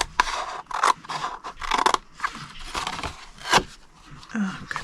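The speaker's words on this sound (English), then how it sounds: "We're going to go to the first score line, cut it to the second score line" Scissors cutting cardstock along score lines for a square treat box, a series of crisp close snips and paper scrapes in short bursts with pauses between, with a little talk mixed in.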